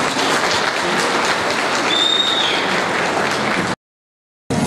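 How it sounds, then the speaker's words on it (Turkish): A crowd at a ceremony honoring veterans breaks into loud, close applause, a thick continuous patter of many hands that cuts off abruptly into silence before a brief resumption. "gazilerimize bir alkışlayalım"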